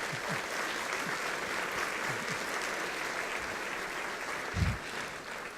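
Audience at a welcome session giving a short round of applause for a colleague named Christian, a steady, even wash of many clapping hands at moderate distance, with a faint voice underneath.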